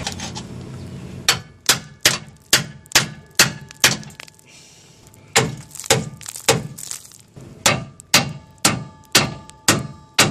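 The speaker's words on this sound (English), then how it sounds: "I'm going to do a little fine tuning with a hammer and a punch." Sharp metallic taps from a hammer striking a punch to fine-tune a patch in a vehicle frame hole, about twenty blows in steady bursts with a short pause midway, close and loud.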